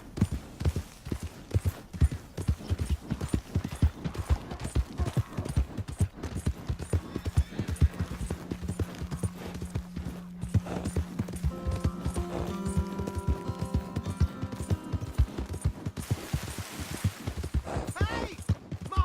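Horse hooves clip-clop in Red Dead Redemption 2, a brisk steady rhythm of close hoofbeats running throughout, joined midway by a brief whinny-like tone and game ambience.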